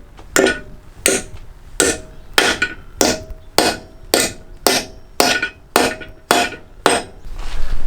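Eleven sharp, evenly spaced metallic knocks as a weight is used in place of a hammer on a bucket seat being fitted into a Mazda RX7, loud and close, with no talking.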